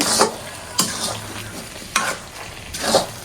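Leafy greens cooking down in a wok, with several loud scraping stirs spread across a low, steady sizzle.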